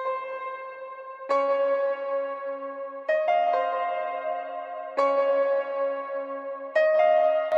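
Sustained piano notes and chords played through a big reverb in a beat, with long ringing tails. A new chord enters about every couple of seconds over a steady wash, with no talk.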